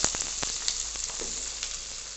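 Mustard seeds, cumin, garlic, ginger and chopped onion fry in hot oil for a mustard-leaf dish, a close, bright, continuous sizzle with a few sharp crackles and pops.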